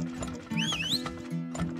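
Cartoonish horse sounds from the video game Turmoil: a bright neigh and whinny rising over steady clip-clop hoofbeats and a low looping game tone, clear and close with no talking.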